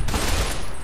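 Short dense burst of rapid gunfire in the video game Fallout New Vegas, loud and continuous for under a second with no talking.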